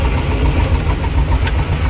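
A T-25 tractor pulling an Agrozet potato planter runs steadily, a loud, close, low engine rumble with a constant rough throb and no talk.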